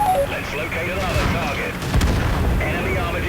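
Cannon fire from Cromwell tanks in a tank battle video game: deep booms and cracks over a rumbling battlefield din, with a voice talking over the action.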